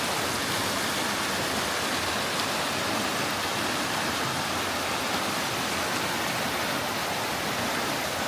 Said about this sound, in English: It's a pretty neat looking waterfall.